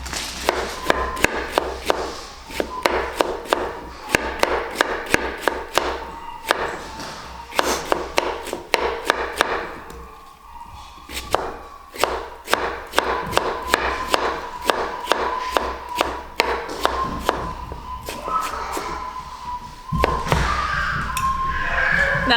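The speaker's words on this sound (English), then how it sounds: "A little bit of chopping skill here." A knife chops a whole Korean radish on a cutting board in rapid, close, sharp taps that run in steady bursts, pause around the middle, then resume until the end.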